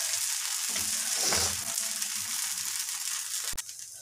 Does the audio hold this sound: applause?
no